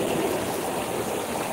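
River water flowing steadily during a monsoon-season swim, a soft continuous rushing and gurgling heard up close at a moderate level, with no speech.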